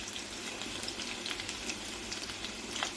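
Onions fry in a pan during the making of an amaranth leaf (thotakura) fry, giving a soft, continuous sizzle and crackle heard close by, fairly quiet and steady with no voices.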